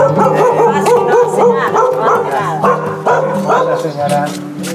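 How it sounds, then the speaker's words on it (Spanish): A small pet dog yaps and barks repeatedly at arriving visitors, close and loud, with people talking over and between the barks. "Ah, es su perrito"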